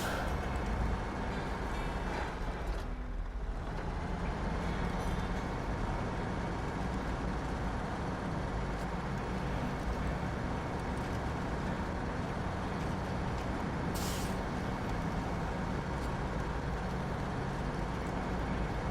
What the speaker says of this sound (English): Alright, now we can start the engine.